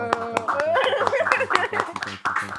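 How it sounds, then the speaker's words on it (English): Hands clap along in a loose rhythm over a thumping music beat during a live rap performance, close and fairly sharp, with a voice talking alongside. "I'm trying not to clap into the mic"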